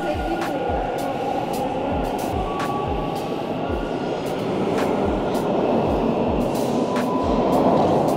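A metro train rolls along with a steady, loud rumble and regular rhythmic clacks as the wheels pass over rail joints, heard from inside the car with no talk.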